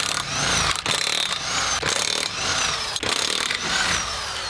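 A power tool, likely an impact wrench, removing a wheel from an old car, loud and close with repeated whirring bursts broken by short pauses.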